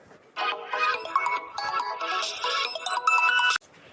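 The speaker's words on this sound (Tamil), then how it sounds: "என்னது இது, ரகு இத்தனை வாட்டி கால் பண்ணியிருக்காரு" A mobile phone ringtone plays for an incoming call, a bright melodic electronic tune lasting about three seconds, loud and close, before it cuts off abruptly.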